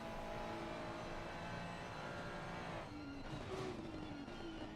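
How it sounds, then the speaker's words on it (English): Ferrari engine in a sim racing video game at Oulton Park, a low-revving drone with gentle pitch rises, heard faintly and steadily without talk. "this Ferrari is quite low rev and it just sounds like a trip to the shops"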